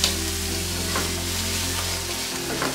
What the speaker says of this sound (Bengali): আদা রসুনের পেস্ট দেওয়ার পরে আর একটু ভেজে নিতে হবে